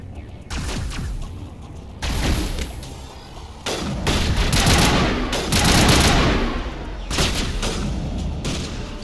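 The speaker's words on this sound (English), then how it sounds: "I actually thought I heard a gunshot like a bang" Sustained bursts of gunfire in the video game Mass Effect, loud volleys and rapid fusillades recurring across the span with booming impacts and no talk.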